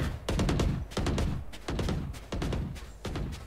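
Rapid bursts of automatic gunfire in a first-person shooter game, about five dense volleys in quick succession with short gaps between them, loud and close.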